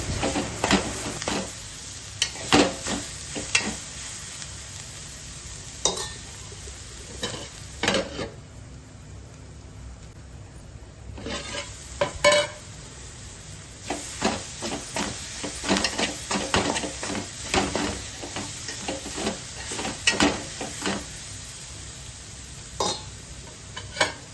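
Grated carrot cooks in a covered pan, a soft continuous sizzle broken by repeated clinks and scrapes of a utensil against the pan, moderately quiet with no voices.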